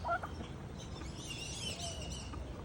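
Baby turkeys call faintly after rain, thin high peeps in a short cluster over a low, steady outdoor rumble.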